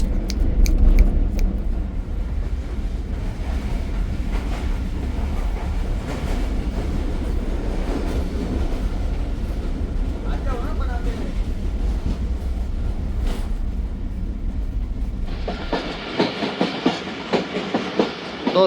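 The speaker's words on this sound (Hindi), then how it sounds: "बहावलपुर रेलवे स्टेशन पहुंची है ट्रेन" The Tezgam express train pulls into Bahawalpur railway station, a loud steady rumble of wheels with clickety-clack over the rail joints, under a faint background voice, before the noise thins near the end.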